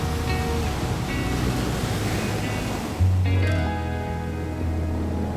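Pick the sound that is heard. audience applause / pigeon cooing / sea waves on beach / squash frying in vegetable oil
sea waves on beach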